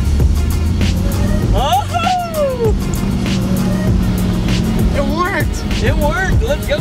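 A Porsche 914 that will not start is push-started by dumping the clutch, leaving a loud, low, rough engine rumble throughout while excited voices shout over it.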